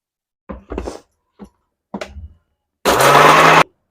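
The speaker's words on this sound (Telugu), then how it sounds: "రుచికి సరిపడినంత ఉప్పు వేసేసుకొని మిక్సీ అయితే పట్టేసుకుంటానండి ముందు" A mixer grinder whirs loudly for under a second as peanut chutney is pulsed, after a few scattered knocks and clatters of the jar being handled.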